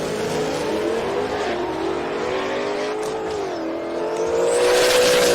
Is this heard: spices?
no